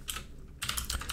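Quick bursts of typing on a computer keyboard, soft close key clicks in two short runs separated by a brief pause, quiet and alone.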